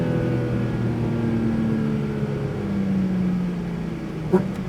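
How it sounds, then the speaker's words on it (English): Porsche Cayman GT4 RS engine on a racetrack, a steady loud drone with sustained harmonic tones that slide gradually in pitch as the car holds speed through a sweep, ending with a brief sharp knock. "I wonder if the cows enjoy the sound of this car as much as we do."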